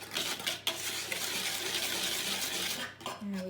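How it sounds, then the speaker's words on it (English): A whisk stirring caster sugar together with other ingredients in a bowl, giving a continuous close scraping and clinking, with a louder knock just after the start. "I'm just going to use my whisk just to mix them together a little bit."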